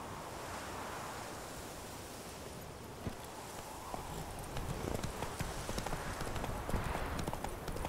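Horse hooves clip-clopping in the game Witcher 3: Wild Hunt, a steady stream of soft hoofbeats under a broad rushing wash of wind or surf, growing slightly busier and louder toward the end.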